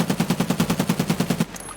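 Rapid automatic fire from a SCAR-L rifle in Escape From Tarkov, about fourteen evenly spaced loud shots in a steady burst, then an abrupt stop with a faint ring.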